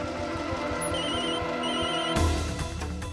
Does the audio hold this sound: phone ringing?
yes